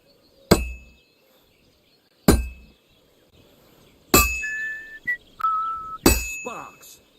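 A hammer strikes hot metal on an anvil at a forge in Kingdom Come: Deliverance II, giving four loud ringing clangs spaced a second or two apart, each with a long metallic ring. Brief whistling tones sound between the later strikes.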